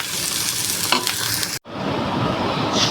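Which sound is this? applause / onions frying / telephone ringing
onions frying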